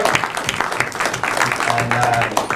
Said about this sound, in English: Round of applause for Neil and Shauna for organizing this.